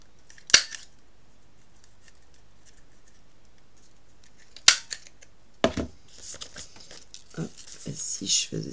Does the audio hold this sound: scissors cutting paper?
yes